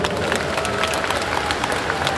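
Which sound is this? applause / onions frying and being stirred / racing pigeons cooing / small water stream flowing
applause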